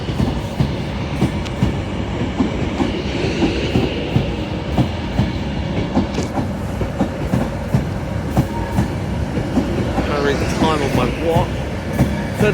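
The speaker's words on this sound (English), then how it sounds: "Here is the Pendolino." An Avanti West Coast Pendolino at Carlisle station rolls past with continuous rumbling and clickety-clack over the rails, plus a brief squeal near the end; faint voices sound in the background.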